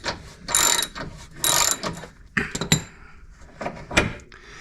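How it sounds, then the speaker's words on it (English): A socket ratchet undoes the front wishbone bolt on a Ford Fiesta's lower control arm, giving several close, loud bursts of rapid metallic clicking separated by short pauses. "So now that's moving, we get a socket on it, we can get it undone much quicker."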